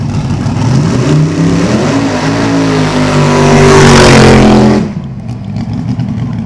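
A race car engine revs loudly nearby, its pitch climbing as it accelerates, then drops abruptly into a lower idle.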